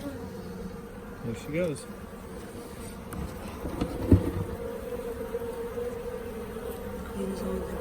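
Honey bees hum in a steady close drone around a hive as a queen is released, with a short spoken remark and some handling noise partway through.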